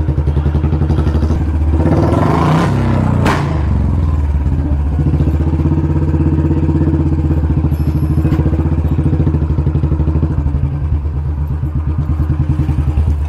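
A Royal Enfield Bullet 350 motorcycle engine rumbles loudly and steadily close by, broken by a sharp exhaust pop that cracks out over the throbbing idle.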